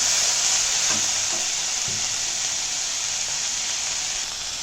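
Batter frying in a pan of oil, a loud, steady sizzle with a few soft stirring clicks near the start, fading slightly as it settles.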